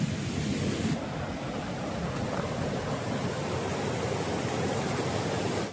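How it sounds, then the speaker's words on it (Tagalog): A river flowing from Ditumabo waterfall near Baler rushes in a steady, broad wash of water, loud and continuous throughout, with no voices. "na ilog na umaagos mula doon sa may falls"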